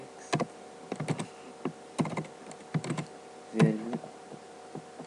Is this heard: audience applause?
no